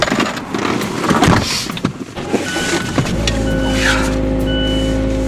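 A car starting and being driven on the way to a lake for a moose hunt, with rustling and door or seat handling, then a steady low engine drone with a faint tonal whine once underway.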